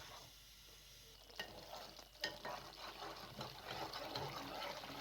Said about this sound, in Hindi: अब आपने मुसलसल चम्मच हिलाना है ताकि ये नीचे चिपके ना।